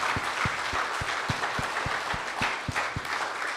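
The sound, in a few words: congregation applause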